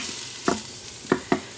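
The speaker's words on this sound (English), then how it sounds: "You can hear the pot is sizzling away." Shrimp risotto ingredients sizzle steadily in an Instant Pot pressure cooker, a constant hiss broken by a few soft knocks of stirring, close by.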